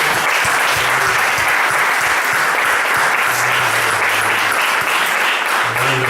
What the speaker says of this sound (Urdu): کیا ان نوجوانوں کے لیے ہم زوردار تالی بجا سکتے ہیں؟